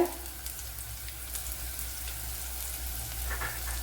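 Dried red chillies fry in hot oil for Kerala-style rasam, giving a soft, even hiss with faint crackles, close by and steady, over a low constant hum and with no voices.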